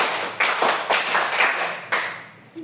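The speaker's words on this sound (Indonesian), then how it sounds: "Tepuk tangan 5." Five quick hand claps from children in a classroom counting drill, bright and close, coming in an uneven run before a short fade.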